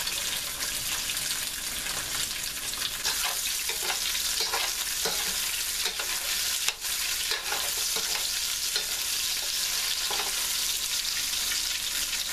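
Tofu frying in oil in a non-stick pan, a constant bright sizzle with occasional scraping and knocking from stirring, close and without speech.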